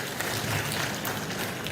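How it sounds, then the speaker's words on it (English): Applause from an audience at a health conference in Kenya, a dense, steady patter of many clapping hands filling the room for a brief moment with no talking. "Another round of applause for Governor Wesley."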